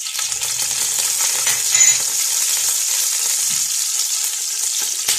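Fennel seeds, coconut and almonds fry in a pan with cardamom, giving a steady, dense sizzle throughout with light stirring clinks, close and fairly loud.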